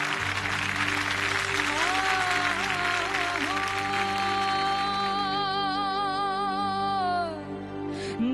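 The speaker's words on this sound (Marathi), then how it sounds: "जोरदार टाळ्या झाल्या पाहिजेत" A studio audience claps loudly for a female singer on a televised Marathi singing contest, a dense sustained wave of applause that fades near the end as a sung melody begins over it.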